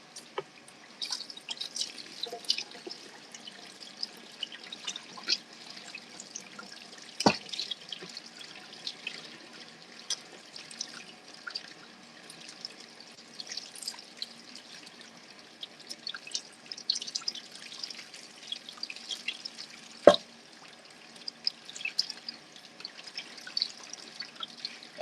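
A tap runs and drips into a sink while catfish are cleaned, a steady faint trickle broken by scattered drips and a couple of sharp knocks, with no talking.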